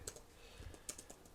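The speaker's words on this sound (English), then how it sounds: "I'm typing with only my left hand." Computer keyboard typed one-handed with the left hand, giving a quick, slightly uneven run of close, crisp key clicks with small gaps between strokes.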